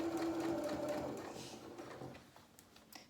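A sewing machine runs steadily on a small doll-sized collector's pinafore, a soft, continuous whirr that slowly fades out near the end.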